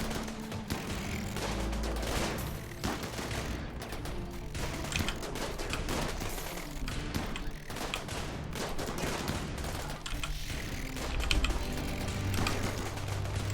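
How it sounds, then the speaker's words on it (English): Bursts of assault rifle gunfire in the survival game Genetic Rim, a dense, steady crackle of rapid shots running throughout at a loud, even level with no pauses. "A few assault rifle shots."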